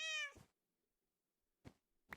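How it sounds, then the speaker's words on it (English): A cat in a video game gives one clear meow, followed after a pause by two short, quieter cat sounds. "Let me just feed this cat."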